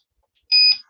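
A Begode ET Max electric unicycle's power alarm sounds as a single short, sharp electronic beep from a phone, loud and close, lasting under half a second with no talk.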